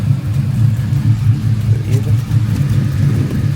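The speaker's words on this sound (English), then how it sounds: "I'm gonna go grab some ramps real quick and just drive up on them" An LS-swapped OBS Chevy truck idles and rolls forward onto ramps with a steady, close, low engine rumble throughout, and a person talks briefly over it.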